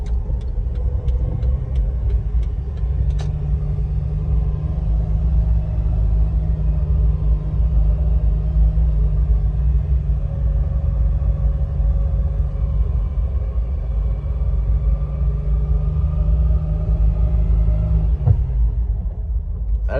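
A Jeep with 5.13 gears crawls along at about 3,000 RPM, its engine a steady low rumble and drone held evenly throughout, close and continuous, with a faint clunk near the end.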